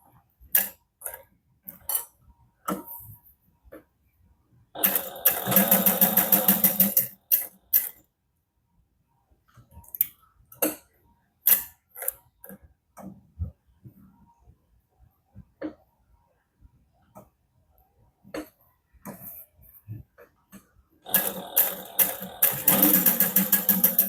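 A sewing machine stitches a seam in hot pink thread, with short loud bursts of rapid motor-driven stitching separated by quiet gaps and handling clicks, close up with no talk.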